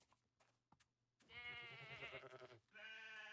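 Sheep in Minecraft bleating, a few faint clicks followed by two loud, close, wavering bleats, each lasting about a second, with no talk over them.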